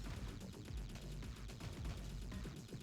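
Rapid gunfire from the Amiga shoot-'em-up Battle Squadron, with ground cannons on screen: dense, continuous bursts of shots packed into a loud, busy game soundtrack with no pause.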